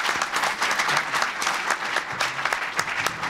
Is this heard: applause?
yes